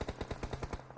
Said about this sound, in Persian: صدا تیر بود.